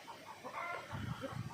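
A light-colored rooster clucks nearby in a farmyard, a few short throaty bursts coming in quick succession, fairly faint against a quiet background.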